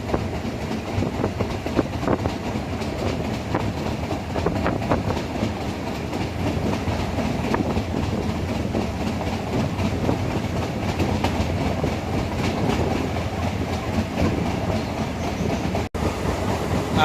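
Meter gauge passenger train running from Junagadh toward Sasan Gir, a steady close rumble of wheels and carriage with faint clickety-clack throughout, heard from inside the coach with no talking.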